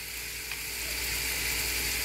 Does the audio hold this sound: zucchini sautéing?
yes